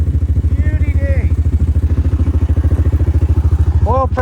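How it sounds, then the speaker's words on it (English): A motorcycle engine runs steadily up close in a fast, even pulse, with a loose exhaust rattling and clattering through it, and a brief voice-like tone near the end; the bike is climbing a long mountain road and has a weak oil-pressure fault. "Exhaust rattling."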